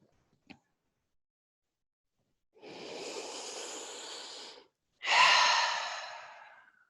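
Slow, deep breathing exercise: a long, steady inhale lasting about two seconds, a brief pause, then a stronger, fuller exhale that gradually fades, close and quiet with no talking.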